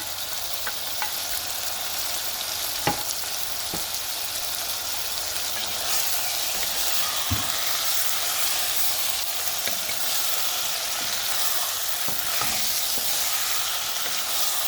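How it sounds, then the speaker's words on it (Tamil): Tomatoes sizzle steadily in a hot pan while being cooked down for a prawn curry, a continuous close frying hiss broken by a few soft clicks of stirring, with no talking. "இது டொமேட்டோ நல்ல வடிவாக மதங்க விடணும்"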